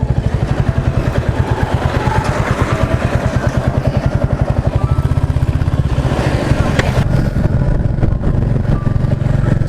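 A Royal Enfield motorcycle thuds along at a steady, close-up chug with a pulsing single-cylinder beat, its rhythm shifting and loosening as gears change over a road of speed breakers, with a brief clatter near the end.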